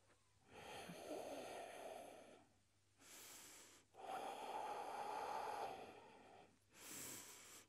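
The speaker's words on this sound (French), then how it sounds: "Quelques inspirations, quelques expirations ici." Slow, deep breaths during a yoga twist, long audible inhales and exhales alternating at a steady relaxed pace, close and clear with no talking.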